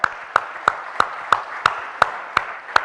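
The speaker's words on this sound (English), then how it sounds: "So a round of applause for TEDx, guys." An audience applauding at a TEDx event in Mumbai, heard as a steady run of sharp, evenly spaced claps, about three per second, close and fairly loud with no talk over them.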